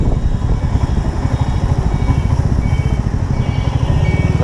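A Royal Enfield motorcycle engine, running low on fuel on a ride in Dhaka, throbs loudly and close in a steady, rapid pulse of low thumps with a slightly uneven, stuttering beat.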